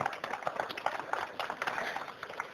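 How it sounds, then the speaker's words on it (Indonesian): Audience applause at a public gathering at the kilometer-zero monument in Sabang, Indonesia: a steady, moderately loud patter of many hands clapping, with a few sharper claps standing out and no break throughout. "Boleh tepuk tangan yang paling meriah Bapak Ibu sekalian."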